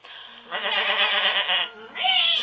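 Sheep on a farm give a loud, close, drawn-out nasal bleat, then a short break and a second wavering call, with nothing else audible around them.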